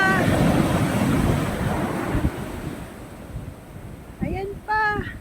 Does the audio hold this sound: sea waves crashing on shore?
yes